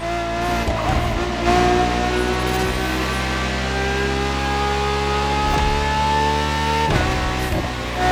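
A Ferrari V12 hybrid supercar, the strongest naturally aspirated Ferrari V12, in the racing game The Crew Motorfest, holds a loud, steady high engine drone with rising pitch, briefly dipping near the start and again near the seventh second.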